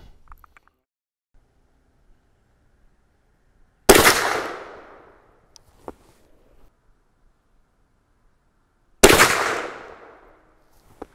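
Two loud, close rifle shots from a CVA Hunter .44 Magnum, each a sharp crack trailing into a long decaying boom, separated by about five seconds of near-silence with faint small handling clicks.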